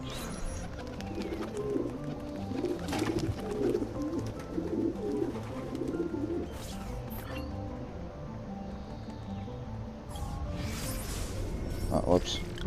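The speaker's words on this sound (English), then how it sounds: "Alright, pigeons, stand back." Pigeons cooing in Assassin's Creed 2, soft repeated low coos in a city setting, mixed with game ambience, occasional sharp clatters, and a person speaking over them at moments.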